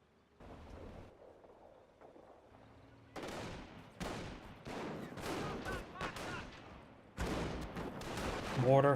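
Mortar fire in the World War II strategy game Company of Heroes: a series of booming launches and blasts after a quiet start, building into repeated heavy thuds, with game voices faintly underneath.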